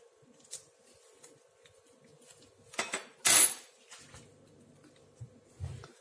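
Sugar and whitening-powder scrub stirred in a bowl, quiet scraping and clinking of a utensil against the dish in scattered strokes, with one louder rattle midway, close and without talk.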